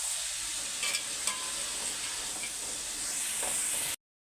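Vegetables for masala veg pasta frying in a pan, a steady close hiss and sizzle with a few stirring scrapes, then the sound cuts out abruptly near the end.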